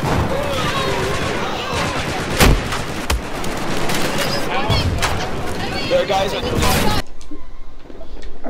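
Battlefield 4 combat with a tank and gunfire: dense, loud bursts of shots and booms crowd the first seven seconds, with excited players talking over them, then the battle noise drops away sharply near the end.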